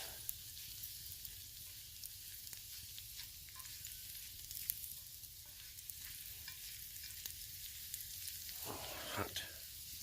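Steaks sizzle in a pan on a winter camping trip, a soft steady crackling hiss with a few scrapes from stirring near the end, heard alone at low volume.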